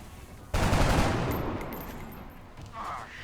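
A single loud gunshot in XCOM bursts out, then a long rumbling decay with a faint metallic clatter trailing off; no talking.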